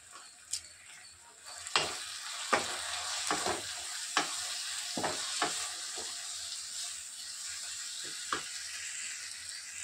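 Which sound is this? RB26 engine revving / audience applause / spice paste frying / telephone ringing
spice paste frying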